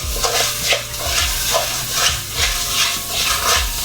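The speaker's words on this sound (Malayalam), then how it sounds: "ഇത് നല്ല രീതിയിൽ പൊരിഞ്ഞു വരത്തക്ക രീതിയിൽ വറുത്തെടുക്കണം." Washed, unsoaked rice is stir-roasted in a pan for Kerala thamukku, with rhythmic scraping stirs about twice a second over a light sizzle. No one speaks.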